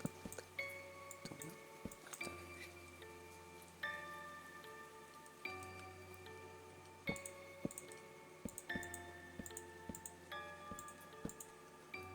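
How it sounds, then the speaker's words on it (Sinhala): Steady rain in a Minecraft horror mod falls as a soft continuous wash, with scattered drips and ticks on top, under eerie tonal game music that swells and changes every few seconds. Nobody speaks. "ක්‍රීපි වැස්සක්."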